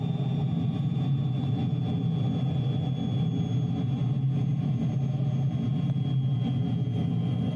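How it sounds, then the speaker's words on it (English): A small Swiss aeroplane's engine drones steadily after being throttled back from maximum power, a constant low rumble with a faint high whine heard from inside the cabin. "You get about 3 minutes of max power, apparently, until you'll cook the engine"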